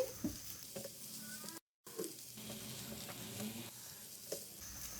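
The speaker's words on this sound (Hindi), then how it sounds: "एक मिनट हम स्टफिंग को रोस्ट कर लेंगे।" Spiced egg samosa stuffing roasts in a pan with a quiet, continuous sizzle and soft stirring scrapes, cut by a brief moment of silence; no one speaks.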